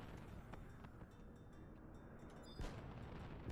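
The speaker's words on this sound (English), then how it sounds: "Ooh, fireworks." Fireworks bursting in the online role-playing game Final Fantasy XI, a steady rumble of booming blasts with a louder burst near the end, no talking.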